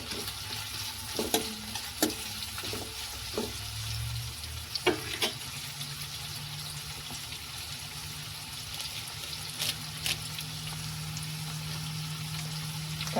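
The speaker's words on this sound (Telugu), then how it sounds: "ముందుగా తాలింపు అయితే వేసుకుంటున్నాను దానిలో కొన్ని పచ్చిమిర్చి" Green chillies sizzling in hot tempering oil for a drumstick tomato curry: a steady soft fry hiss with occasional spoon clinks and stirring, no talk.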